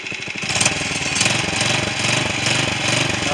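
A newly built go-kart with a clutch and reverse gear runs its small engine at a steady, rough, throaty putter, loud and close throughout with no voices over it.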